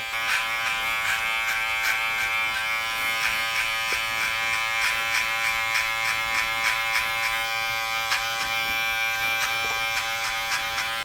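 Electric hair clippers buzz steadily and loudly while fading thick hair during a drop fade haircut, a close, continuous hum with small rhythmic changes as the blade works through the hair.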